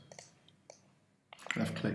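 Computer mouse clicks while working in Illustrator on a t-shirt design, a few sharp separate clicks near and quiet, followed by a louder burst of handling noise.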